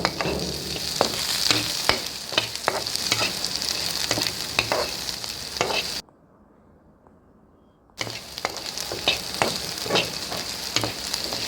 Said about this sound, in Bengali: এই সরিষা তেলে ভাজতে হবে এভাবে